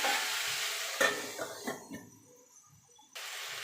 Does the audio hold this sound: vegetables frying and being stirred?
yes